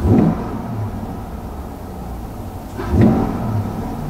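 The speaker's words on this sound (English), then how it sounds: "The intake noise is nice." A 2020 Chevrolet Corvette C8 Stingray 1LT Convertible accelerates, its intake giving a steady rumbling whir that swells in two louder surges at the start and near the end.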